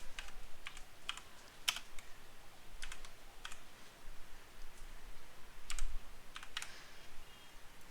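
Quiet, steady clatter of fingers typing on a computer keyboard, irregular bursts of key clicks close up with no talking.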